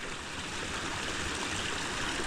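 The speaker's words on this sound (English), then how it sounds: "I now have a babbling brook." A shallow babbling brook of meltwater runs through a channel raked into a flooded winter campsite, making a soft, continuous rushing and trickling without a break.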